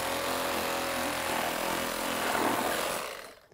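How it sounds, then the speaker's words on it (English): A power tool cuts through a tuna collar in a backyard, giving a continuous loud, harsh grinding whir that runs steadily for about three seconds before winding down. "Lisa, you're just like so badass with that power tool."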